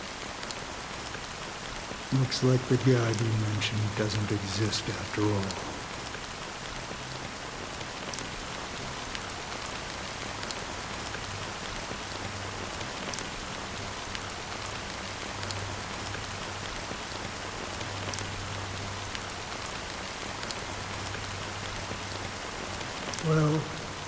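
Steady rain patters on surfaces throughout a scene from the game Honkai: Star Rail, a soft continuous hiss under a calm voice speaking, with brief musical tones early on.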